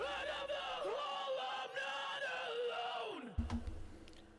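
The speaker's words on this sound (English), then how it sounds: "And then you have like these screams or yells." Layered background screams and yells used as vocal textures in a music production, sustained and harmonically rich with sliding pitch, cutting off sharply near the end with a brief thump.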